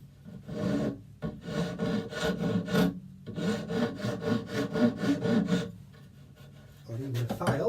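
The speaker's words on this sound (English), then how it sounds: "And then I can take this rasp" A hand rasp scrapes wood clamped in a vise on a worktop fiddle project, in bursts of rhythmic back-and-forth strokes with short pauses between them, close and moderately loud.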